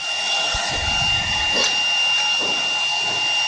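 Factory machine cutting pressed doll skins, a steady broadband whirring hum with a constant high whine, brief clunks near the start and middle, loud and continuous with no talk.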